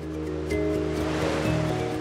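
Dense rushing water roars steadily from river falls tumbling over walls of stone, a continuous broad wash with no voices.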